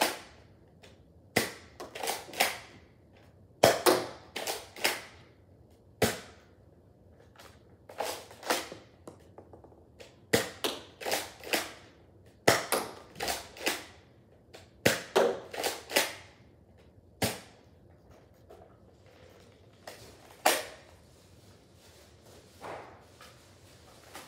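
A Nerf blaster fires foam darts in a long irregular series of sharp snapping shots, some spaced apart and some in quick bursts, each one close and crisp.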